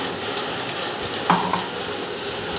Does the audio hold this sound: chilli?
yes